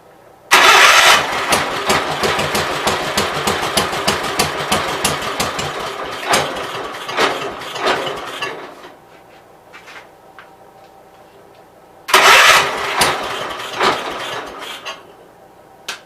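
A small engine on a project machine is cranked twice after the fuel line was unpinched, with loud ticking, chugging cranking for several seconds, a pause, then a second shorter try, close up.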